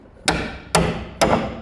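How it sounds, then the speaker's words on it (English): A hammering tool strikes three sharp, loud metallic blows at an even pace, knocking welds off a rusty sill on a classic Holden Torana GTR XU1 LJ, each hit ringing briefly. "Just taking those welds off."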